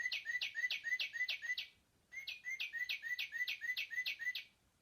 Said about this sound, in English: let's hear what the cardinal sounds like